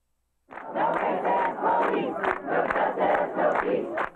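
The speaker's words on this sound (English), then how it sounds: "a very large crowd seething with anger over the death of 30-year-old pregnant mother Charleena Lyles squared off with Seattle police" A very large, angry protest crowd in Seattle shouts and roars together in loud, rhythmic bursts of chanting, close and dense, after a moment of silence at the start.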